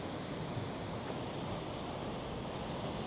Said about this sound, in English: it's quite windy though today, and tide's coming in as well.